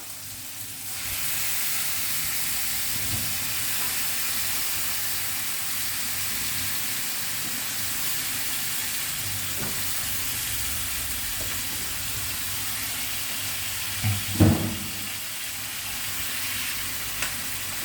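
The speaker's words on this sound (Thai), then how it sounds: "ผัดให้มะเขือกับเห็ดสุกก่อน" Mushrooms and eggplant stir-fry in a pan over aromatics, a loud steady sizzle and hiss running throughout, broken by a few scraping stirs near the end.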